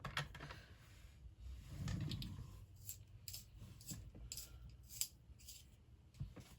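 A Rimmel eyeliner pencil is turned in a small sharpener, giving quiet scattered scraping clicks and short crisp ticks close to the microphone, with no talk.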